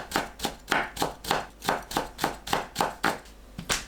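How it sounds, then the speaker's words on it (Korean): Cheongyang chili peppers are finely chopped with a knife on a board, a regular run of about a dozen sharp, close knocks at a brisk, even pace. "청양고추를 작게 썰어줍니다."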